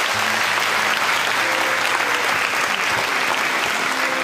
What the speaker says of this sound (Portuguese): Dá uma salva de palmas a Jesus Cristo.